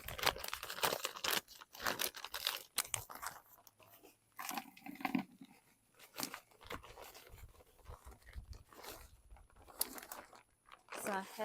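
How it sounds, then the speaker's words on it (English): Potting soil being scooped and handled into the bottom of a new pot while repotting a bird of paradise plant, giving close, repeated crunchy, crinkly rustles and scrapes with a few brief pauses. "put potting soil at the bottom of your new pot"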